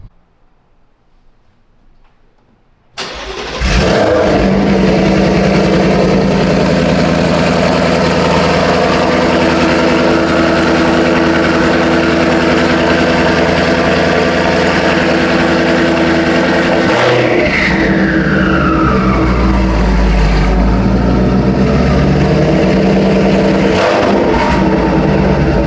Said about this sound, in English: start it up again, and you should hear a little less turbo.